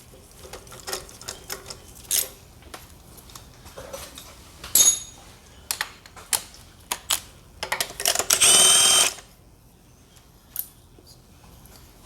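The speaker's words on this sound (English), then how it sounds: "And then you can take the spark plugs out with the impact." An impact wrench works spark plugs out of a Honda Accord engine in short rattling bursts amid metallic clinks and tool handling, with one longer buzzing run near the end, close by and without speech.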